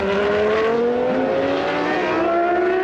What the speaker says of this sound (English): he put too much power through the cold tyres and spun in front of the Sauber